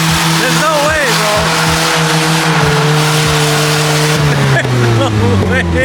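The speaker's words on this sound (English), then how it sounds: "These dudes are wilding out in the Miatas right now." Several Mazda Miatas are driven hard at a car-week gathering in Monterey, with engines revving and rising, cars passing close and squeals mixed in, while people talk over the noise.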